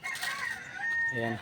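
A rooster about to undergo surgery crows close by, its call cutting through a brief spoken word from a person nearby.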